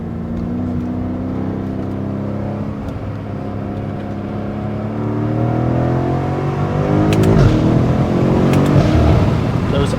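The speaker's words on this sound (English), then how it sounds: "Those upshifts are so violent with this XHP tunes." A BMW M5 with an XHP tune accelerates hard from inside the cabin, its engine note rising in steady sweeps and dropping at upshifts, a continuous loud drone with road and wind noise.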